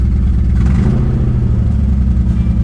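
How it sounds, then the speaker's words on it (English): A car engine idles steadily and loudly up close, its low rumble slightly uneven and running a little rough, with no talk over it. "It's running. A little rough, but it runs."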